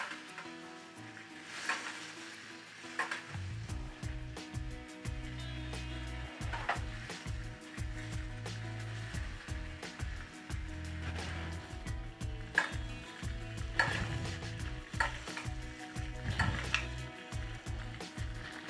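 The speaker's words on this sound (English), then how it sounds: "You want to tilt your pan and then just spoon the butter over top of the herbs and the steak." Butter spooned over steak and a rosemary sprig in a tilted hot pan, sizzling and crackling steadily throughout with repeated scraping and clinking of the spoon against the pan, no talking.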